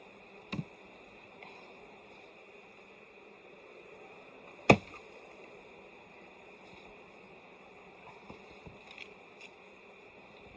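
Honey bees hum around an opened hive in fall beekeeping, a quiet steady drone broken by a couple of sharp clicks.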